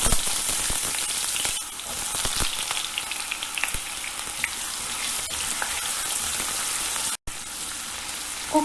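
Potatoes hit hot oil with cumin seeds and a piece of cinnamon, a loud continuous sizzle close up with scattered crackles and pops and occasional stirring scrapes.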